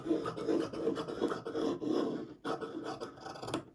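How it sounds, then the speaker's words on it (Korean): Scissors cut through bespoke tailoring jacket fabric in rhythmic rasping strokes, close and fairly quiet, with a brief pause midway before more cutting. "좌우 두 개 폭이 될 정도로만 자르겠습니다"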